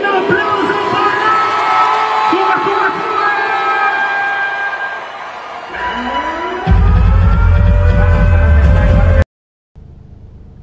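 A concert crowd at a DJ show cheers and yells loudly with whistle-like shouts, then a heavy low boom and roaring noise swell before a sudden cut to silence and a faint return.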